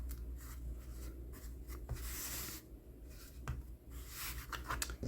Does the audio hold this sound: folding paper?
yes